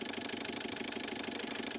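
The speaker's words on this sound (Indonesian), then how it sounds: "Ini mesin running di RPM 760" A Kia Picanto engine idles at 760 RPM, a close, quiet, even stream of rapid regular pulses with a steady mechanical hum and no rise in revs.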